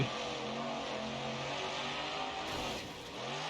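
A deep, heavy monster truck engine in BeamNG.drive rumbles and revs, its low pitch sliding and swelling, then dipping briefly before building again.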